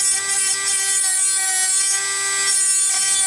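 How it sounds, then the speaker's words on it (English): A high-pitched Aldi rotary tool whines steadily while its abrasive sanding disc grinds and rasps against wood, the rough scraping swelling and easing in strokes. "Let's try the sanding disc."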